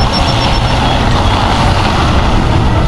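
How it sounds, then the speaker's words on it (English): A battery-powered electric semi truck driving past, heard as a loud, close, continuous roar of tyres and road noise that fills the whole moment with no talking. "Battery-powered truck. Better get ready, they're coming."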